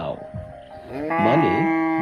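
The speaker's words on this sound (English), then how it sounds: "Next one is cow." A single cow gives one short mooing call, close and fairly loud, rising into a sustained low bellow toward the end.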